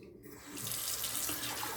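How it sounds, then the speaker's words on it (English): Tap water runs into a Fuji shaving mug, starting after a brief quiet moment and then pouring in a steady, close splashing rush until the end. "I'm going to add some water to my Fuji mug here"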